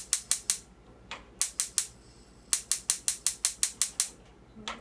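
Rapid sharp clicks from a gas stove burner igniter, in bursts of about three to six clicks each with short pauses between, close and loud with no talking.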